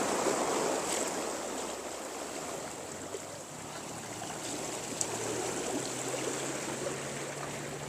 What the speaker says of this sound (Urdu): یہاں انتہائی بلند لہریں لگتی ہے۔